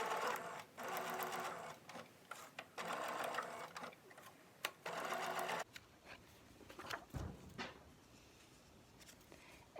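A sewing machine stitches fabric onto card stock for a handmade gift tag, running in several steady bursts with brief pauses between them. The stitching stops partway through, leaving quieter handling noises and faint rustling.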